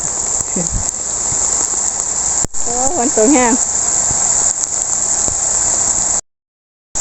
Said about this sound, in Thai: สถานการณ์ตอนนี้ค่ะ ฝนตก